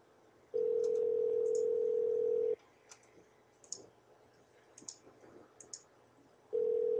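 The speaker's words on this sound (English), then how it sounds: "There should be a button that says call Skype." A Skype call tone sounds in two long steady bursts, the first lasting about two seconds and the second starting near the end, with faint clicks and small sounds in the quiet gap between them.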